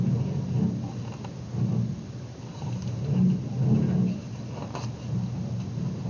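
Thunderstorm sound effect in a read-aloud pirate story, low rolling thunder rumbles swelling and fading over steady rain, continuous and fairly loud with no talking.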